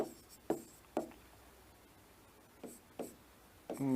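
Pen or marker writing out a calendar math example on a surface, a series of short scratchy strokes in separate bursts with pauses between, close and fairly quiet, no talking.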